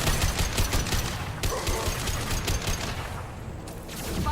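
Gunfire from the video game Mass Effect 2 rattles in dense, rapid bursts, a loud, continuous stream of automatic shots and impacts that thins briefly before picking up again.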